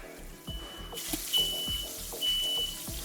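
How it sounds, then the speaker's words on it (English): While a steak sears in hot oil or lard in a pan, a smoke alarm sounds thin, high, faint beeps over the steady frying sizzle. "sometimes when you're doing this, you can set off the fire alarm."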